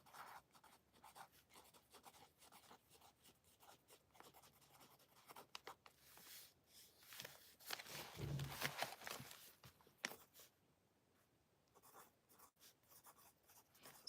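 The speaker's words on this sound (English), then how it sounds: "And then I write something." Pen scratching across a journal page, soft and close, with intermittent strokes and a louder rustle midway before fading back to faint scribbling.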